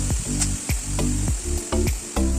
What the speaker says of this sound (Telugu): దోసకాయ ముక్కలు వేసుకొని అవి కూడా ఫ్రై అవనిచ్చి